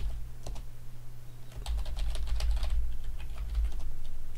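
Quick bursts of keystrokes on a computer keyboard as a Linux terminal command is entered, close and fairly quiet, irregular taps with short pauses and no talking.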